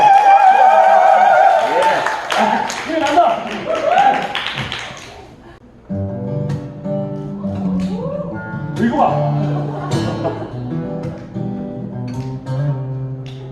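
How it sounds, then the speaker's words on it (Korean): An audience at a small indoor mini concert claps in a loud burst of crowd applause for about five seconds. The clapping fades, then a song with singing starts. "박수를 크 주시죠."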